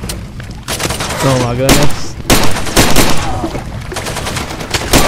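Rapid bursts of gunfire from a first-person shooter set in Far Cry 2, loud and dense volleys throughout with a player exclaiming briefly over the shots.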